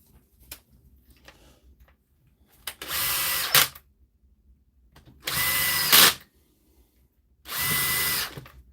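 A power drill drives in screws in three loud, close bursts of about a second each, separated by quiet gaps with faint handling clicks.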